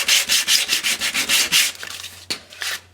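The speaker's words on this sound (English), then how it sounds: "I'm going to get my Tim Holtz sander here, and I just want to kind of go over the edges." A Tim Holtz sander rubs along the edges of a mini album cover, a close, steady train of rapid rasping strokes that stop shortly before a single sharp tap and one more short scrape.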